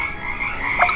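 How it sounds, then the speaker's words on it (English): Cartoon frogs croak in a short burst, a couple of quick bright croaks near the end over a steady tonal background. "What? Frogs?"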